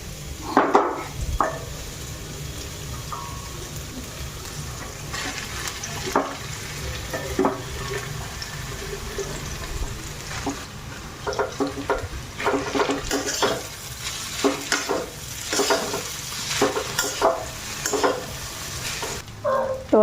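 Boiled chow mein noodles are stir-fried in a pan, a steady sizzle broken by repeated scraping and clattering strokes of a spatula against the metal, with no talking.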